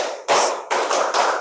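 Close, loud claps from a standing group repeat a counted rhythm in an ice-breaking game, landing as three crisp, sharp bursts of many hands clapping together.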